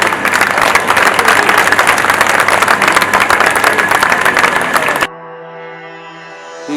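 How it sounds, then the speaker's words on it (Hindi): An audience claps together for about five seconds to welcome a senior official at a Hindi-language ceremony, loud and dense, before it cuts to a quieter, steadier tone with no clapping. "तालियों के साथ उनका स्वागत करें।"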